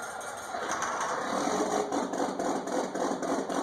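A tractor engine in a Farming Simulator 19 mod runs through its startup sequence, giving a steady, busy mechanical clatter and rattle that holds at a fairly even level for the few seconds with no talk.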